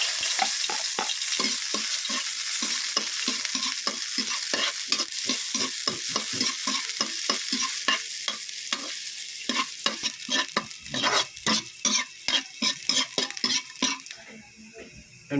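Garlic and onion sautéing in a pan for upo with sardines, with rapid rhythmic scraping and stirring strokes over a steady sizzle, close and loud, the strokes growing sharper and clinkier toward the end.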